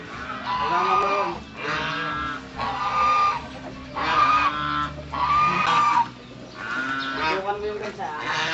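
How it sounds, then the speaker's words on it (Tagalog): A goose in a backyard honks in repeated harmonic calls, roughly one burst per second, loud and close, with voices talking around them. "Tukan mo yung gansa."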